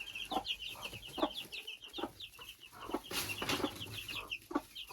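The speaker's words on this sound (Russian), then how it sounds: "так как цыплята с квочкой" A broody hen and her chicks in a chicken coop, with rapid high cheeping from the chicks running throughout and the hen's low soft clucks repeating close by.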